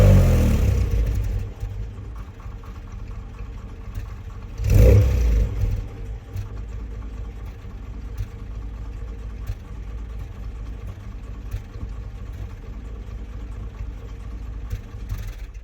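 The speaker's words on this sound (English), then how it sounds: "let me start the car up and let you have a listen" A 1950s Rolls-Royce Silver Dawn engine cranks and fires, with a brief louder surge, then settles into a quiet, smooth idle that continues at low level.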